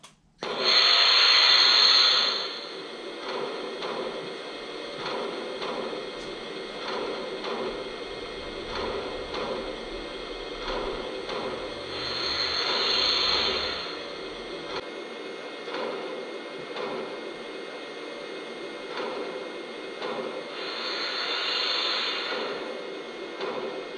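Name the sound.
Lionel H10 toy steam locomotive running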